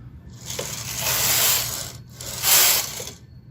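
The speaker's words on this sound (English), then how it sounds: "Move the K carriage across the needle bed a few times to align the needles" A Brother KH965i knitting machine carriage slides across the needle bed twice, each pass a loud mechanical rattling whir with a brief gap between them.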